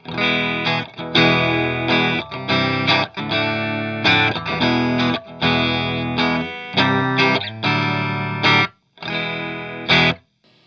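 Electric guitar, a 1997 Fender Stratocaster Deluxe with noiseless pickups, played cleanly with a warm tone, chords strummed in bursts with short gaps between phrases, close and loud, no voices.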